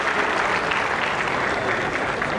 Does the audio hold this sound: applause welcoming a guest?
yes